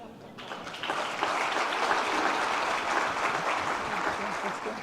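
Audience applause at a panel session, a second, louder attempt after a call for more noise: dense, steady clapping that swells in within the first second and holds strongly to the end, with faint voices mixed in.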